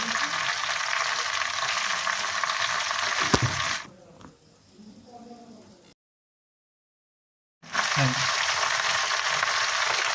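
Food fries in a pan during night-time cooking at home in a Bangladeshi family kitchen, a loud, steady sizzle that drops away, goes silent, then returns just as strong.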